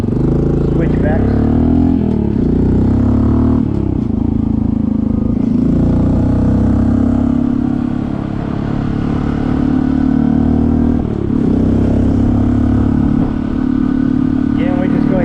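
A Honda CT125 motorcycle with a 142cc big bore engine rides along winding switchbacks in fourth gear just off idle, a steady low engine drone with slight rises and dips, loud and close throughout.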